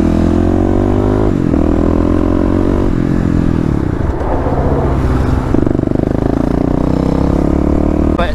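A 2021 Kawasaki KLX300 dual sport motorcycle engine drones loudly and close while being ridden. Its pitch climbs, then drops at several gear changes, with some mechanical clatter and wind noise throughout.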